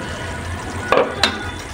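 A curry is stirred in a frying pan, a steady sizzle with two brief scraping clatters of the spoon against the pan, close and loud.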